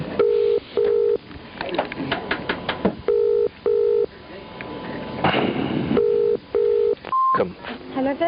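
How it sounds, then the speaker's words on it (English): Phone line to a Virgin Interactive tech support desk: repeated paired ringback tones sounding in regular bursts, interrupted by a steady single tone near the end, with game-like bangs and background noise mixed underneath. "it was ringing so long now"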